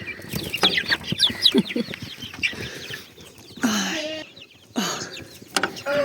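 Young chicks in a farmyard coop cluck and cheep in a busy overlapping chorus of short high calls, with a few louder bursts of activity and rustling nearby; no one speaks.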